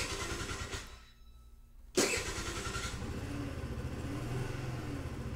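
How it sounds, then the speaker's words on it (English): A JM50 motorcycle engine cranks and catches after a brief quiet gap, then settles into a steady, close idle with a low rumbling pulse. "And the engine starts up."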